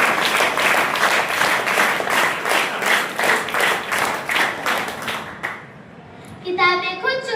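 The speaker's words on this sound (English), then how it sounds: "Let's give a big clap for Samrin Panu." An audience claps steadily for several seconds at an elocution competition, then the applause fades out and a voice begins speaking.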